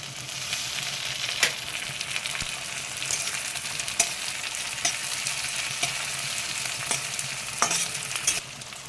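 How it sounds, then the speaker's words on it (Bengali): Onions and tomatoes frying in a pan for a Bengali mourola fish and eggplant curry, with a steady, loud sizzle throughout and repeated scraping strokes of stirring, no talk. "পেঁয়াজগুলোকে একটু হালকা রাঙা রাঙা করে ভেজে নেব এবার টমেটো দিয়ে দেবো"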